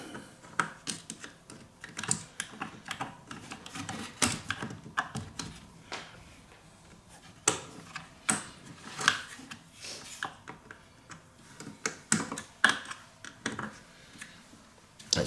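Small clicks and taps as a trim circlip is worked off a Garrard 3000 turntable in an HMV Stereomaster, irregular close-up metallic ticks and scrapes spread throughout with no talking.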